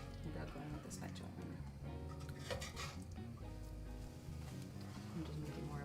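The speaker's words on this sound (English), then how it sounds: "I need to scrape my pans without going with the spatula." Metal pans scrape and clatter on a stovetop during cooking, with irregular scraping and clinking close by under ongoing talk.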